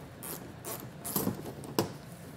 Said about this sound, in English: we're gonna go ahead and remove five T15 Torx screws here